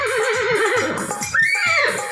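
A horse whinnies in a long, wavering call that rises and falls, then gives a second higher, sharper cry, close and loud with no talk over it.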